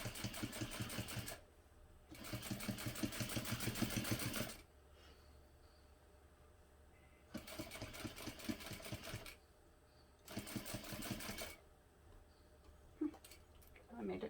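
Sewing machine top stitching a hobo bag, loud rapid mechanical stitching bursts of a few seconds each, separated by quieter pauses where handling noise and a voice are heard.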